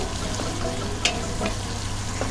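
Soaked Gobindobhog aromatic rice sautéing in a pan for Bengali moori ghonto, with a steady close sizzle and occasional soft scrapes and taps as it is stirred.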